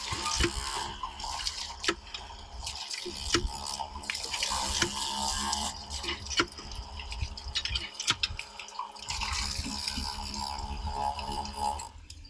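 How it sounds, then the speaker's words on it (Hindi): Water flowing from a hand pump driven by a 775 DC motor, a steady close rush and trickle of water with a constant hum that runs without a break. "थोड़ा थोड़ा इसमें देखिए पानी आने लगा"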